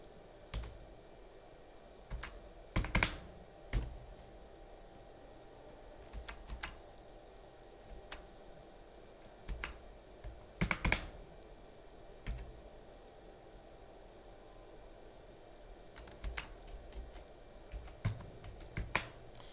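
Typing an IP address on a computer keyboard: scattered bursts of crisp keystroke clicks with short pauses between groups, close and fairly quiet, with no talking.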